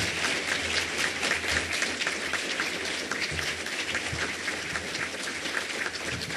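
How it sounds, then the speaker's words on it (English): Audience at a City of Chicago event applauding, a dense, steady wash of clapping from a large crowd sustained for several seconds with no talk over it. "How about a big round of applause?"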